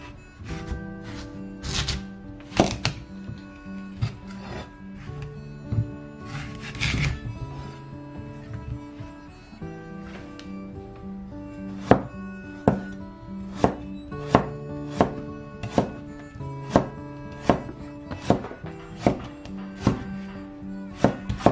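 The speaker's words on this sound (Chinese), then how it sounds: "把萝卜切成片。" A knife slices a white radish into thin pieces on a board, giving crisp chopping knocks, first in irregular clusters and then in a steady, even rhythm of sharp, close thuds.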